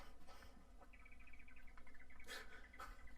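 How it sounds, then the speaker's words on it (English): A bird call sound effect plays as a short run of quick, evenly repeated chirping notes over a steady background hum, with a couple of brighter bursts near the end. "Nice bird."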